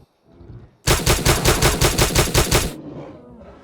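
A rapid burst of about a dozen automatic gunshots at a charging bear in the survival game Miscreated, loud and close, evenly spaced over two seconds before stopping.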